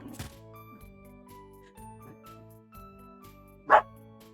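A dog playing with a squeaky toy gives a single sharp bark near the end, above a quiet background of soft musical tones and light tinkling.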